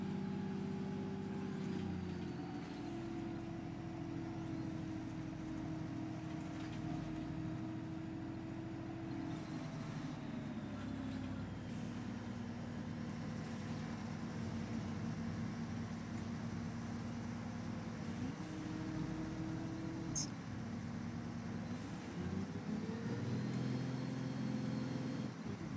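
Simulated ADL Enviro400 MMC London-spec double-decker bus in OMSI 2, its engine droning steadily throughout with gearbox whine shifting pitch as it changes gear, plus a brief air-brake hiss near the end; no talking.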